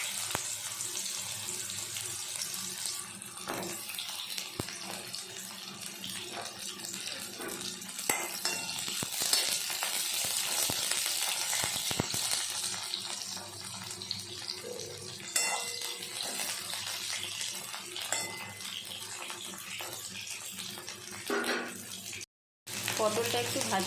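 Pointed gourd (potol) frying in a pan, a continuous hissing sizzle with occasional stirring scrapes and clinks, fairly quiet and steady, with a brief dropout near the end.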